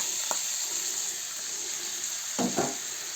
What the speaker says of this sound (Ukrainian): І зараз обсмажую цибульку з морквою